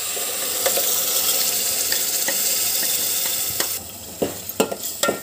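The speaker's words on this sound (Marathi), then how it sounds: "मोठ्या गॅसवर 3 ते 4 मिनटं चांगला परतून घ्यायचं आहे" Spice paste (masala) for goat head curry fries hot in a pan over a high gas flame, a bright continuous sizzle broken by scraping stirs and sharp clicks as it quiets near the end.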